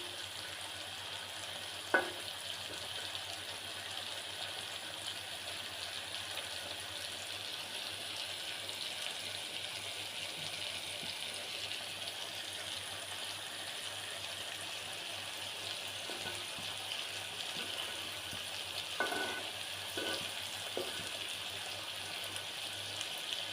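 Food fries crisp in a pan with a steady, fairly quiet hiss of oil, broken by a few faint clicks and pops.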